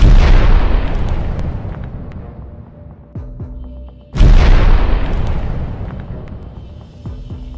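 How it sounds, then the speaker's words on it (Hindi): Two heavy booming blasts roughly four seconds apart as a Boeing 747's front cargo door bursts open in flight (United Airlines Flight 811), each loud and sudden, rumbling and slowly decaying, with faint tonal rattling between them. "एक धमाके की आवाज सुनाई देती है"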